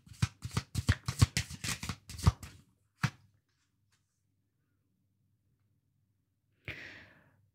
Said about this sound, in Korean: 조금 더 카드 뽑아볼게요.